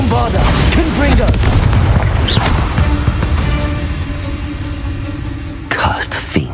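A Confringo blasting spell goes off in Hogwarts Legacy, a loud booming burst with rumbling tail that fades over several seconds before a second sharp impact near the end, all under game ambience and voices.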